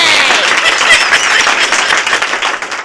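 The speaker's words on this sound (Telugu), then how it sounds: "నా కవిత బాగుందో లేదో తెలియాలంటే మీ చప్పట్లు కావాలి." A studio audience on a Telugu comedy game show claps for a recited poem, a dense, even burst of applause close up that thins out toward the end.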